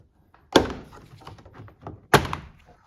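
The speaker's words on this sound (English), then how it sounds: "Remove this piece of trim right here." A plastic trim piece pried off the front door of a 2007-2013 Toyota Tundra gives two sharp clacking pops with small rattles and taps between them, close and fairly loud.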